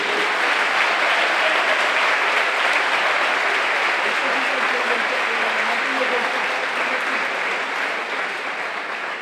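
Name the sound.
applause for teachers handing out graduation prizes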